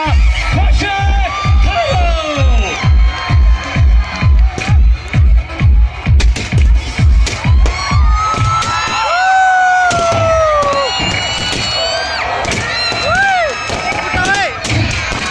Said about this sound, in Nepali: समृद्धि पन्तको लागि एकपटक जोरदार ताली